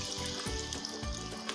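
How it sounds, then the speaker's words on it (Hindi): Homemade McDonald's-style french fries dropped into preheated oil, giving a steady, close, hissing sizzle with a low bubbling rumble underneath and no talking. "और तकरीबन गोल्डन फ्राई होने तक इसको फ्राई करेंगे।"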